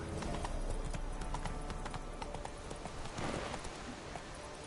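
Geralt's horse Roach galloping in the Witcher video game, a rapid continuous drum of hoofbeats, close and steady throughout.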